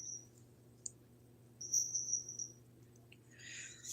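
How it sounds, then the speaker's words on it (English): Faint, high chirps in short scattered bursts, heard over a quiet low hum, with a few soft clicks between them. "Did you hear the birds?"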